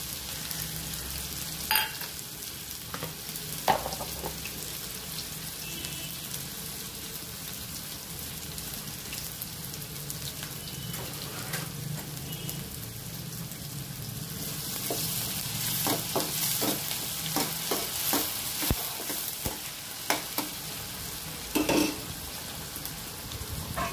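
Onions sizzle and fry in hot oil with urad dal and cumin seeds, a steady crackling hiss broken by scraping stirs and a few sharp clicks of a spoon against the pan, with no voices.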